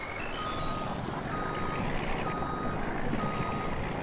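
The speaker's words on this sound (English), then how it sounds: "these trucks sound pretty good" A truck engine in Farming Simulator 19 rumbles steadily while a series of reversing beeps rises in pitch and then settles into a repeating tone, close and fairly loud.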